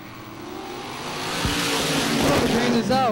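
Supermodified race cars roar down the back stretch of a speedway, a loud rising engine wash that swells as they pass, with an announcer talking over it.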